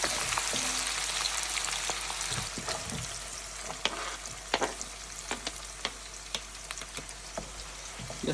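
Chopped onions fry in hot oil for a chicken biryani, a dense, steady sizzle and crackle with scattered sharp pops and spatters throughout, close and fairly loud with no voices.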